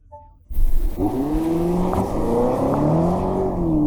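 A seven-seater BMW X7 SUV launches hard from a standstill, its engine roaring loud and close as the pitch climbs steadily through the gears, with faint tire noise and no talking.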